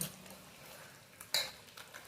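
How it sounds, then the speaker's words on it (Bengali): Mutton being mixed by hand with mustard oil and spices in a kitchen, with soft, faint squelching and a few light clinks of a pan or utensil, no voices. "ভালো করে মাংসটা মেখে নিছি"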